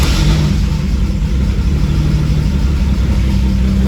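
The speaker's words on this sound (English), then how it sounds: "now we can go ahead and start the car and see what happens this time" A Mercedes W203 with a turbocharged 3.2 engine on new engine management runs close by, a loud, steady, low rumbling idle that holds without pause.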